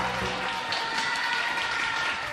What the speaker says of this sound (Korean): 런웨이에서 시범을 보이는 선생님 모습에는 환호성이 터져 나옵니다